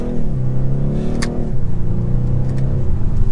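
A 2024 BMW 430i Coupe M-Sport four-cylinder engine revs loudly and close by, its pitch climbing then dropping and rising again, with a throaty exhaust note.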